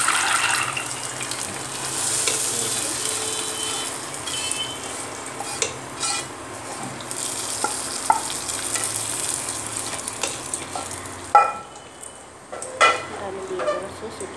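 Fried spice tempering tipped into raw mango dal and stirred in a pan, giving a steady sizzle with scraping stirs, then sharper clatter and bursts near the end, no talking.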